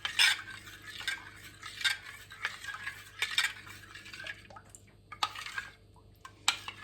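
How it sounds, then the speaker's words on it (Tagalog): A spoon stirs cornstarch into a majablanca mixture in a pot, giving repeated soft scraping strokes with light clinks and faint liquid swishing, close and fairly quiet, with no talking. "Tapos hahaluin lang ng hahaluin."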